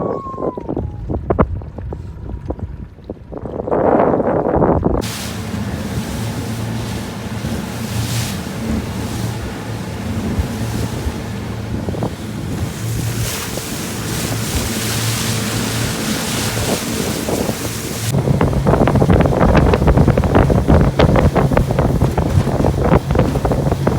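A motorboat motors home across a lake where loons call, its steady engine drone mixed with wind buffeting the microphone and water rushing past the hull, growing louder and rougher toward the end.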